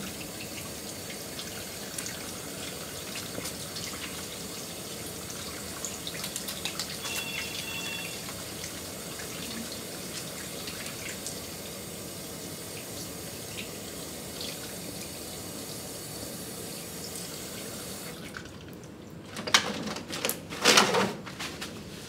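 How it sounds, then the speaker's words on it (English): A faucet runs steadily during handwashing with soap and water before a blood culture procedure, a continuous near splash that cuts off near the end, followed by a few brief drips and clatters. "Wash your hands with soap and water, dry your hands well, and degerm your hands with disinfectant."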